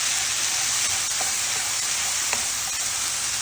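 Cooked lentils and quinoa stirred into a hot pan for a vegetable quinoa risotto, giving a steady loud sizzle and hiss with a few soft scraping clicks from the stirring and no talking.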